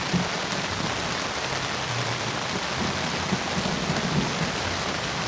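Heavy rain with thunder and lightning pours steadily in a dense, continuous hiss, with faint low thunder rumbles underneath; no voices.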